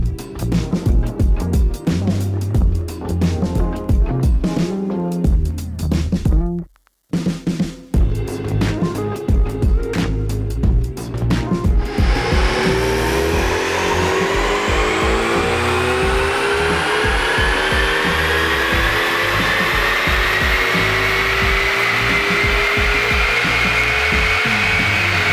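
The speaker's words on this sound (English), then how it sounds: "Today we have the car on the dyno." A 10th-gen Honda Civic Si with a new front-mount intercooler runs hard on a dyno with the cooling fans blowing, its engine revving up through the gears with a brief drop, then a loud sustained rising pull.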